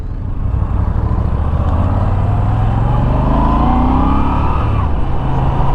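A Moto Guzzi V7 Special motorcycle rumbles steadily beneath its rider on the road, a loud, deep engine drone with rising tone as it pulls, plus wind rush, no pauses.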